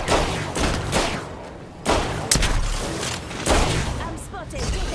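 Gunfire crackles in a shooter video game as bursts of sharp shots and thuds, mixed with game sounds while a player talks over it.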